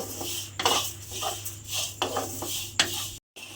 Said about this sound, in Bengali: এইভাবে চিড়েটাকে আমি হালকা করে একটু ভেজে নেব